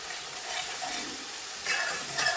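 Monkfish curry with onions and spices sizzles steadily in a hot pan while a spoon scrapes and stirs through it, a continuous close frying hiss that swells with each stroke, with no voices.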